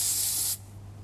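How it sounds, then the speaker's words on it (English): A short, bright hiss of aerosol cooling spray bursts for about half a second, then cuts off abruptly, leaving a faint hum. "Now, I've got some cooling spray here."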